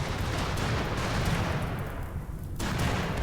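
Ammunition cooking off in the Rimworld video game, a dense, continuous crackle of bursting rounds with a heavy low rumble that briefly thins before resuming at full loudness.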